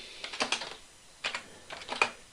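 Close, crisp typing on a computer keyboard, two quick clusters of clicking keystrokes with a short pause between, in a quiet room.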